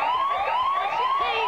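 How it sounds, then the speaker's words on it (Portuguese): A siren sound effect plays on a Brazilian TV talk show, a loud, wavering electronic wail that rises and falls continuously, with no voices over it. "quando rola essa sirene, alguma coisa vai acontecer"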